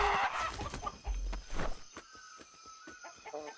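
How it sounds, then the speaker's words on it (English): Chicken clucking in the Atlas video game, a few short fowl calls with a brief crow-like tone, close and fairly loud at the start, then fading into sparse soft clucks and game noise. "How much do we get from a chicken?"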